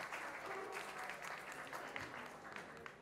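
Audience applause at a teen conference closing quiz, a steady dense clapping from a crowd in a hall, faint and continuous throughout with a light voice over it.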